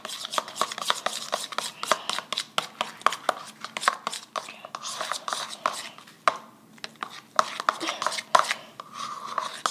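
Glue and detergent being stirred together into slime, a close run of quick clicking and scraping taps from the mixing utensil in a container, uneven and busy, with a voice occasionally speaking alongside.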